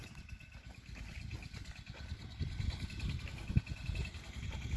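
A mini tractor works a cotton field on a farm, its engine running as a steady, rough low drone with an uneven chugging rhythm that grows slightly louder toward the end, heard alone without talk.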